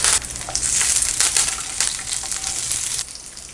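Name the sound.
stirring peanuts and dal frying in oil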